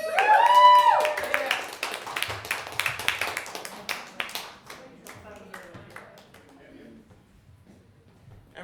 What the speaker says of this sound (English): I'm going to give a huge round of applause for Linda